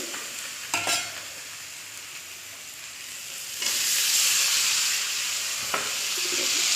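Potatoes added to cooked spice paste and oil in a pan, a loud hissing sizzle that swells and stays intense, broken by a few stirring scrapes and knocks against the pan.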